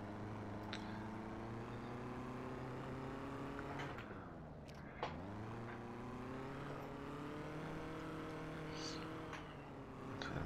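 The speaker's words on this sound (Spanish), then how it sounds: "Este coche sí resulta bastante más fácil de conducir." A car in the Rigs of Rods driving simulator hums steadily with a tonal engine note, pitch dipping and rising once as it shifts or slows, while someone talks over it.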